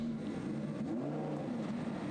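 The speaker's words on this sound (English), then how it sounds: "So engines fire up, pit lane now opens." Lamborghini Huracán race car engines idle and fire up in the Monza pit lane, a steady droning rumble with slowly wavering pitch, continuous and moderately close.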